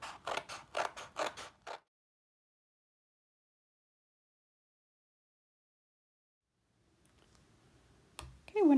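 Scissors cut paper strips for Kente cloth weaving, with a quick run of about six crisp snips at the start, followed by long silence and faint handling rustle before a final clack.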